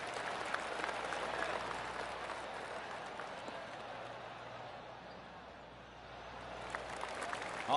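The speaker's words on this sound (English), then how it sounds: "Oh, I can hear the golf claps around the course." A golf crowd clapping around the course in the video game PGA TOUR 2K25, steady distant applause that swells and fades softly over several seconds, with no talk.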